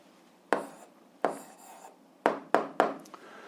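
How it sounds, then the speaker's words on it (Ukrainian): A pen writes out the answer to an eighth-grade algebra exercise in about five quick, close strokes. Each scratchy stroke starts sharply and fades, separated by brief quiet pauses. "записуємо відповідь, пишемо відповідь"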